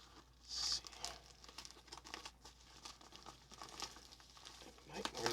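A bubble mailer package being handled and torn at, quiet close crinkling and rustling of plastic with one louder crinkle burst early, with faint speech in the background.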